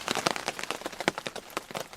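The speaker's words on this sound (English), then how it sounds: "And the rain is coming down. It's just like soaking. It's like dripping off the fangs of the statue." Steady rain soaks down and drips off the fangs of a wolf statue outdoors, a dense patter of close, irregular drops and splashes with no voices.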